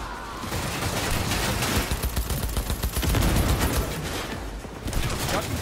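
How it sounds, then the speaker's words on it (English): Dense gunfire rattles through a firefight in Cyberpunk 2077, sniper shots mixed with rapid bursts, loud and close, with a brief lull before the shooting resumes. "Am I getting sniped? I'm getting sniped."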